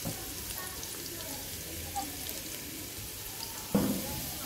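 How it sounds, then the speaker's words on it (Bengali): Chopped onions frying in oil for a chicken biryani pulao, giving a soft steady sizzle throughout with a brief louder stir or clatter near the end. "এখানে একটু পেঁয়াজ বেরেস্তার মতো করে ভেজে নিলাম"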